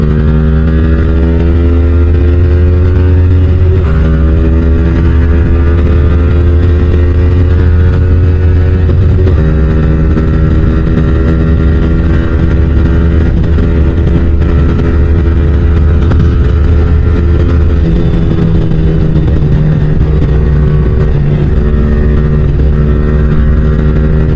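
A Yamaha R15 V4 motorcycle's deep, throaty modified exhaust drones loudly and continuously, its pitch shifting slightly with throttle changes, with no talking.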